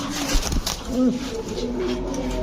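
Prince Kamargar pigeons from Pakistan coo softly at close range, a few low rolling calls under a steady background murmur of people and movement.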